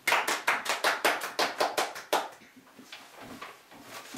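A studio audience applauds a special guest on a French history show, about a dozen sharp, evenly spaced claps across two seconds, then tapering into scattered, fainter clapping.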